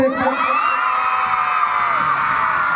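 A crowd of children at a school sports meet closing ceremony shouting and whooping together, loud and sustained, their high voices blending into one long cheer.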